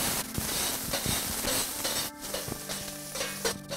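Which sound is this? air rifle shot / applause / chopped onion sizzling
chopped onion sizzling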